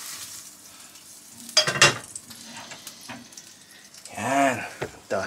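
Chicken fried skin-side until golden brown sizzles softly in a pan, broken by sharp clinks of utensils against cookware and a louder scraping stir near the end.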